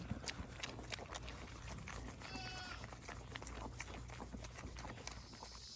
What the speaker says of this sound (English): You guys hear the adult pigs in the background whining because I'm feeding the foster piggies first today.